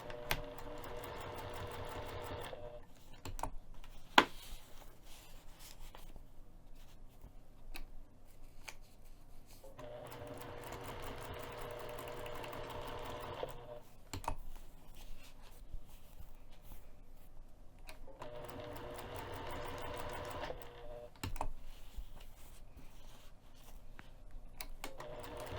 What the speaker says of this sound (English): I'm going to sew this clear vinyl to the foam using 1/8 of an inch